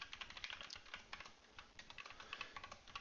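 Rapid, close typing of Java code on a computer keyboard, a steady stream of light clicking keystrokes with no talk.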